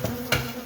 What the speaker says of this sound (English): Got probably about like 6 pieces of comb in there, so just mostly bees today.